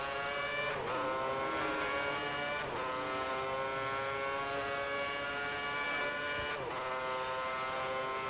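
A Formula One race car engine in F1 2010 screams at high revs through a lap, pitch climbing steadily then dropping sharply at each gear shift, loud and continuous with no talking.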